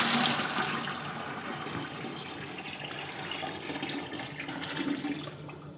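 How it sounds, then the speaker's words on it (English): Sanitizer liquid gushes out of a homebrew beer keg in a continuous splashing, gurgling pour, loudest at the start and then steady, running for several seconds without talk. "just go ahead and pour the sanitizer back in and use it later for something else"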